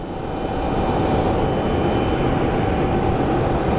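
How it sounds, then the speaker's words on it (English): A small plane takes off at Phoenix Sky Harbor airport, its loud, steady engine roar rising within the first half second and then holding a broad, heavy drone with a faint whine above, and no talk. "Seeing one of those little planes take off"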